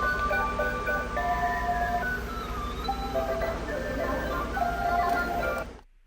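A Lowe's Halloween clown animatronic decoration plays a tinny, looping carnival-style jingle with layered tones, steady and fairly loud for about six seconds before cutting off, amid store background noise.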